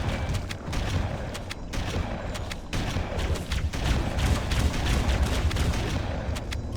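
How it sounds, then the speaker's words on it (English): A shotgun blasts repeatedly at Flood creatures in Halo: Combat Evolved, several heavy booming shots spaced a second or so apart amid ongoing battle noise and other gunfire, loud and close. "Here I am putting the shotgun's reasonably decent punch at range to use"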